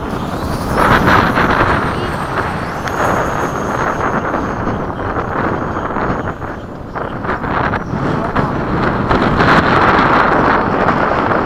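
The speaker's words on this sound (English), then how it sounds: "Summer, it usually does get kind of windy." Strong wind roars and buffets continuously, loud and close, gusting louder toward the end.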